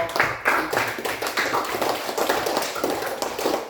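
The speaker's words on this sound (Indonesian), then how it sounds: "mari kita tepuk tangan untuk kelompok" Classroom applause for a student group that has just presented, with a quick patter of many hands clapping steadily and fairly close for a few seconds.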